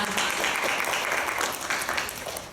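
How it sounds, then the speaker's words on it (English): Audience applause at the 2014 summer NFL Korea debate final as a development director is introduced, a dense, steady round of clapping filling the room at even loudness for its whole length. "Round of applause."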